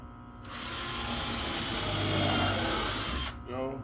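A power drill whirs steadily for about three seconds as it pre-drills a hole in wood for a homemade mink box, then winds down. The drill is loud and close.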